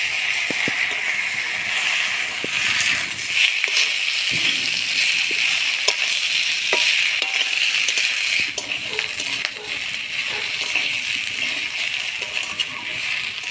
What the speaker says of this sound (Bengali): চিংড়ি মাছ দিয়ে ভালো করে নাড়াচাড়া করে নেব।